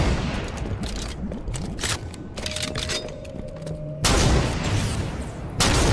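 Sniper rifle gunfire in a one-on-one snipers-only video game match, with a few sharp reports, the loudest near the end.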